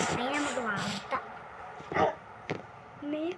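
Dog from the Minecraft video game giving a few short whimpering yips and barks, close and clear, with a person talking over much of it.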